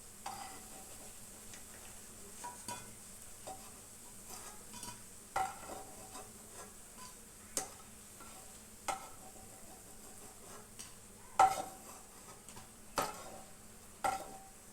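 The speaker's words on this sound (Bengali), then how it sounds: "আমি সবগুলো ভেজে দেখাচ্ছি।" Fulki batter drops frying in hot oil for a doi fulki dish, giving a soft continuous sizzle punctuated by sharp clinks and scraping taps of a utensil at irregular intervals, close by with no talking.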